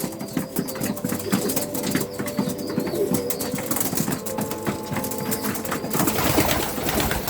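Homing pigeons coo steadily in a loft while drinking water, a dense continuous murmur of overlapping coos with occasional wing flutters, close and moderately loud throughout.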